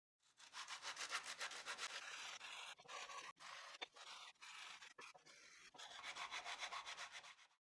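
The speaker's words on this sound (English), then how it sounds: "I'll use an 80 grit sandpaper with this piece of wood to smooth the inside area." A piece of wood sanded by hand with 80 grit sandpaper, rhythmic rasping back-and-forth strokes, close and clear, with short pauses between bursts of rubbing.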